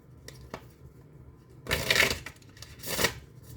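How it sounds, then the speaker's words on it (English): Oracle cards are shuffled in a few quick riffles: faint flicks first, then two louder, crisp bursts of cards rustling close by. "We will do one more shuffle."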